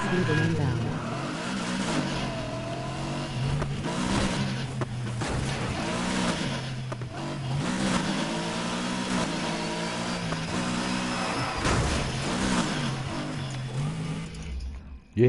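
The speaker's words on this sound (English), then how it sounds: "The original engine for this car is the best sounding engine out of all the 5 engines." A car engine in the video game Need for Speed Heat, the car's original engine, drones and revs up and down in rising and falling pitch sweeps, loud and continuous, with a voice talking over it.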